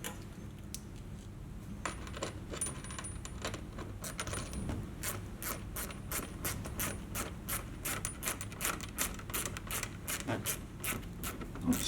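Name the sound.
Phillips head screwdriver ratcheting screw into fender flare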